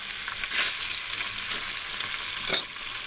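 Red mullet bones and heads frying in a pan for fish soup, a steady close sizzle with soft stirring scrapes and a brief louder burst near the end.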